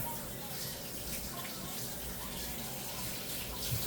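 Tap water runs steadily into a sink as something is rinsed under it, a continuous close hiss and splash that carries evenly throughout.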